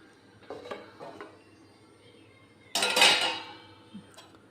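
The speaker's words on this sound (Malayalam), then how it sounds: "ഇനി ഇതൊന്ന് മൂടി വെക്കുക." A metal lid set onto a pot of mackerel curry with grated coconut and curd, a few light metallic taps followed by one louder clanging placement that rings briefly, then a faint final tick.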